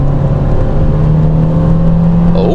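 A 200-horsepower Peugeot 208 GTi engine pulls hard in a sustained, loud, rising drone from inside the car, with a gear change near the end and no talk.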